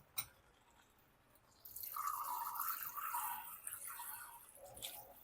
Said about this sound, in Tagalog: Bigyan lang natin konting tubig pala.